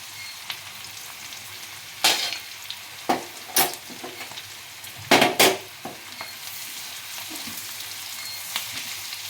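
Bhetki fish pieces fry in a pan with turmeric and chili powder, a soft steady sizzle broken by several sharp spatula scrapes and knocks, clustered around the middle and fading toward the end.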